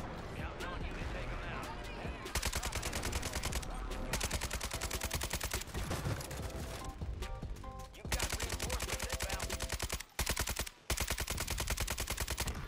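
Gunfire in the video game Warzone: loud, nearly continuous rapid shots with short pauses between bursts, heavy and close throughout.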